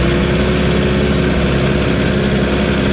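A tractor in 4-wheel drive pulls a wagon-sized 1950s New Idea manure spreader full of manure through a muddy section, its engine droning steadily and loudly up close without any talk.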